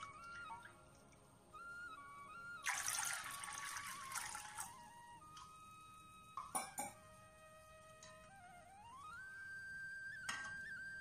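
Water poured from a cup into a cornflour mixture for Karachi halwa: a short splashing pour around the middle, alongside quieter kitchen clinks over soft background music.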